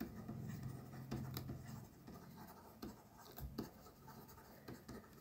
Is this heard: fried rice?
no